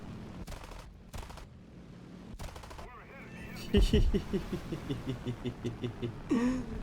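Aircraft guns fire in War Thunder, a World War II air-combat game: after a droning, noisy stretch, a loud, rapid burst of rhythmic gunfire rattles for several seconds.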